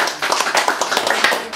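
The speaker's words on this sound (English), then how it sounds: "More applause, please, for the brilliant Jasmine Anne." A quick burst of audience clapping for a poet after a reading, many hands at once, loud and close with no talking.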